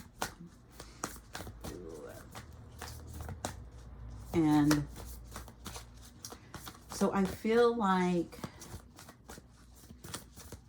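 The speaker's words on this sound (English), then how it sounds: "I was doing my shuffling." Rapid, crisp tarot card-shuffling taps repeat through the clip, with a soft voice speaking briefly in the middle and near the end.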